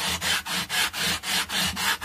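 A sandpaper block is rubbed back and forth over guitar frets on a Telecaster-style guitar, giving a steady rasping scrape in about eight even strokes, close and alone.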